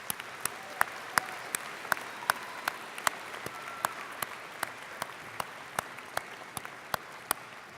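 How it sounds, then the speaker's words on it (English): Graduates at a university science convocation applaud their supporters, with a soft background wash of clapping punctuated by sharp, evenly spaced individual claps close by that continue throughout. "I would now request that the graduates give a round of applause to all of those who have supported them."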